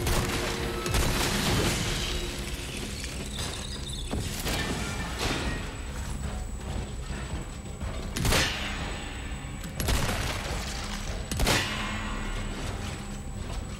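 Pump-action shotgun blasts in the Resident Evil 4 Remake video game, several sharp booming shots at irregular intervals over constant game ambience and metallic clangs.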